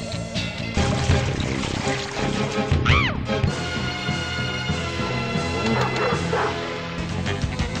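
A bulldog barks amid loud, dense music, several sharp yips and barks scattered through a busy, continuous mix.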